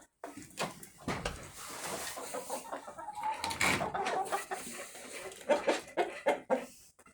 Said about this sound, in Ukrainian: Даємо пшеничку нашим курчатам